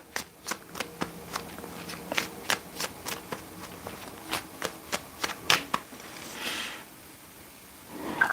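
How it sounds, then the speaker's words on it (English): Tarot cards from a yes-or-no deck being shuffled by hand, a steady series of crisp riffling slaps and snaps followed by a softer sliding rustle, close and fairly quiet with no talk. "I'm going to use yes or no deck and then pull some tarot cards"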